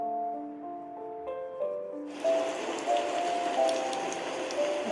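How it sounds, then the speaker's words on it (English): A few soft melodic notes play, then a steady hiss of falling rain takes over and continues evenly to the end. "It's a beautiful afternoon, raining outside."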